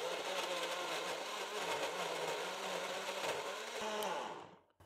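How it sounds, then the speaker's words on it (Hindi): Tomatoes being pureed in a kitchen blender make a loud, steady whirring roar that runs continuously, then cuts off abruptly at the end. "अब ये टमाटर ब्लेंडर में डाल के ब्लेंड कर लेंगे।"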